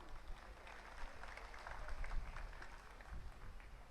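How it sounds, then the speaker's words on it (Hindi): Applause at a mushaira poetry gathering in Mian Channu, heard as a steady, distant wash of clapping that stays faint and even throughout. "तो इनके लिए भरपूर ताली।"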